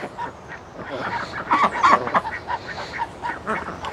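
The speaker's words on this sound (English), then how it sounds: "All them ducks doing nicely." A flock of healthy farm ducks quacking nearby, with repeated overlapping honking calls in irregular bursts, some loud and close, over outdoor background noise.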